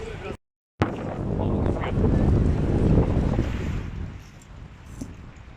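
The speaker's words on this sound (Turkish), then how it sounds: "Rüzgar geldi." Strong wind gusting over the microphone, a loud rumbling roar after a brief cutout, easing toward the end, with open water nearby.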